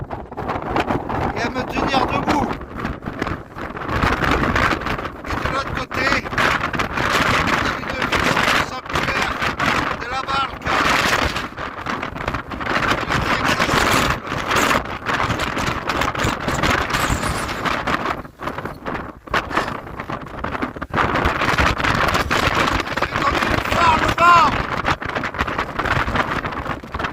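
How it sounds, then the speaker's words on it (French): Violent wind blasts across an open stretch of the Camino pilgrimage trail, a continuous gusty roar buffeting the microphone with a voice talking over it. "Le vent est très violent ici."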